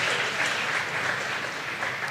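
An audience at a livestreamed startup pitch event applauds an award winner with steady, dense clapping that fills the short moment at an even, moderate loudness.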